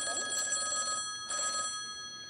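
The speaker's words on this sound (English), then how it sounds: "my phone's ringing." A telephone bell rings in two bursts, a long trill followed by a shorter one after a brief pause, then fades into quiet.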